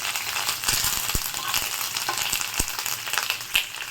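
Curry leaves frying in hot oil while puliogre gojju is being made, giving a steady bright crackling sizzle with a few sharp pops, close and continuous, with no voices.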